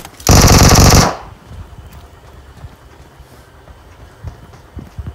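Automatic gunfire in a BGMI battle, one loud close burst of rapid shots lasting under a second, followed by quieter scattered game sounds and faint distant thuds.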